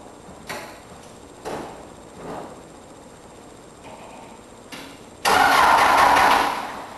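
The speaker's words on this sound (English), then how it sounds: "pretty much you're going to start up the machine" An Aztec trencher's engine cranks in several short, separate bursts, then catches and roars steadily for about two seconds before easing off, close and loud in an otherwise quiet outdoor setting.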